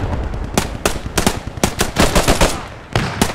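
Gunfire from the World War II video game Post Scriptum: loud, close, sharp shots fired in quick bursts and single cracks, irregularly spaced, with short gaps between volleys.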